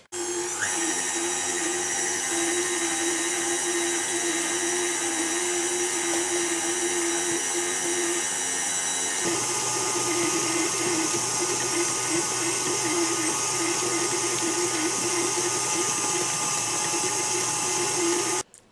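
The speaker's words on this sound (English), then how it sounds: "we keep whipping until that's combined, and then we're going to add butter" An electric mixer's beaters whip Swiss meringue buttercream as butter is added, giving a loud, steady motor whine that runs continuously and shifts pitch slightly partway through.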